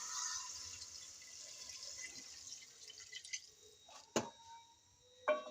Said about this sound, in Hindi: और अब मैं पानी डाल देती हूँ जितना मुझे चाहिए होगा।